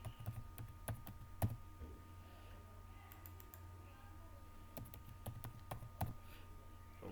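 Keys tapped on a computer keyboard while a bakery name is entered for a flyer design, sparse clicks in short bursts at close range over a faint steady hum.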